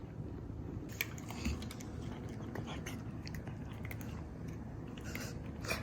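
A pet chews treats close up, making steady wet, squishy chewing with occasional crunchy clicks throughout.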